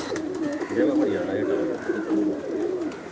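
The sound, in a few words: pigeon cooing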